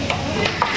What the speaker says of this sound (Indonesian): Terus bakwan lagi goreng bakwan.